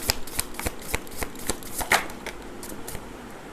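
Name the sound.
shuffling a deck of tarot cards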